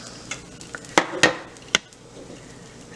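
A cornmeal pancake cooking in a pan gives a faint background sizzle, with a few sharp utensil clacks against the pan near the start.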